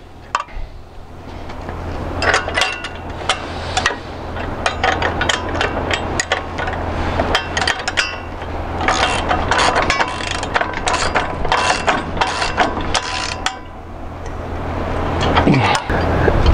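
Ratcheting hand tools click in quick repeated runs while hardware is snugged up on an AGCO Dynaflex header during an airbar manifold installation, mixed with metallic taps and clanks over a low steady hum.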